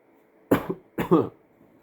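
Two short, sharp coughs come one after the other, close to the microphone, with silence around them.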